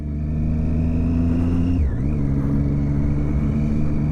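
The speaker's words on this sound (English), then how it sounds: "I've got an actual bike with me. Just taking it out for a little ride." A motorcycle engine hums steadily while riding at night, a loud close drone that dips briefly in pitch midway as the revs drop and then recover.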